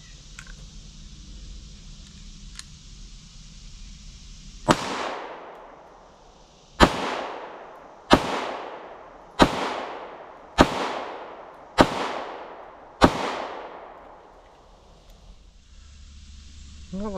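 Gunshots at an outdoor target range: seven sharp, loud reports spaced roughly one to two seconds apart, each with a ringing decay, over quiet background hiss and no talk.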